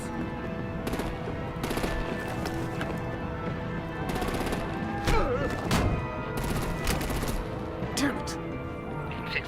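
Video game combat with bursts of machine-gun fire and gunshots, a few heavier thumping blasts among them, under speech, music and other battle noise throughout.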